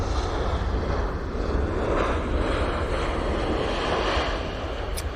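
A Vueling airliner lands at a blustery Barcelona Airport, its engine roar a broad, steady rumble with wind buffeting the microphone and no talk.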